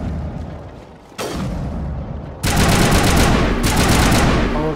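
Rapid automatic gunfire in the sci-fi video game Mass Effect, loud, dense bursts that start abruptly and then intensify into a heavier sustained barrage.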